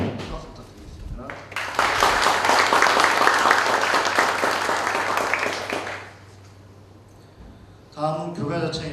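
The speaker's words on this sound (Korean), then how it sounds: "박수 부탁드리겠습니다" Applause from the assembled audience at a university labor union general meeting and launch ceremony, a dense sustained clapping that swells for several seconds, then fades into room murmur before a voice returns.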